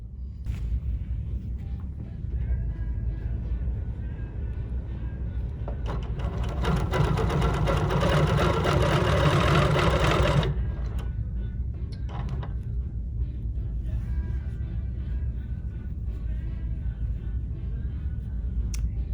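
A BERNINA Q16 longarm sewing machine stitches in a fast, steady mechanical whir that builds, runs for several seconds and then stops abruptly, leaving quiet room tone with faint clicks.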